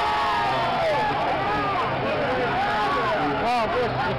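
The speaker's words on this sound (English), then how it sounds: "I'll let you listen to the crowd for a second." Loud, continuous roar of a NASCAR race crowd reacting, dense babble and cheering with a voice talking over it.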